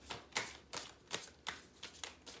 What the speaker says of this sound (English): this deck is really big. It's hard for me to shuffle sometimes.